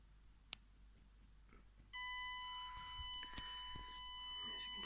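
A homemade Arduino home security alarm goes off after its vibration sensor is triggered, sounding a loud, steady electronic siren tone that starts abruptly after a sharp click and holds continuously to the end.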